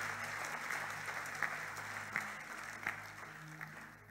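A church congregation claps during a sermon, a soft, distant patter of hands under a low steady hum, with a few sharper claps standing out.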